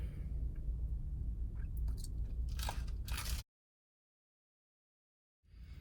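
Close, crisp crunching of someone biting and chewing a toasted Taco Bell Toasted Cheddar Chalupa, several loud crackling bites over a few seconds before a sudden cutoff to silence, then low room noise returning.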